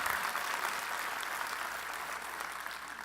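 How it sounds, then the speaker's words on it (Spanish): Church congregation applauding during a Spanish-language sermon, a continuous crowd of clapping hands that stays fairly even and slowly fades a little toward the end, with no voices on top. "Dé un aplauso al Señor"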